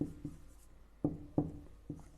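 Chalk or marker strokes on a board during a tax lecture, a few scratchy bursts of writing separated by short pauses, close and fairly faint, with no speech.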